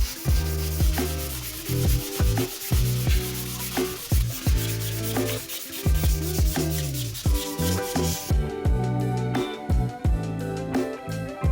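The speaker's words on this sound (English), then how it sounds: "using 1000 grit sandpaper." Steady rubbing and scraping of 1000 grit sandpaper across Lexan car window panels, loud and close. Rhythmic back-and-forth strokes run without pause under background music.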